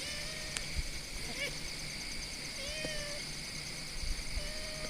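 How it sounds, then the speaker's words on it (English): A cat meows outdoors in a field, a few short, faint cries spaced apart over a low steady background hum. "I can hear it meowing. It's over in the field here."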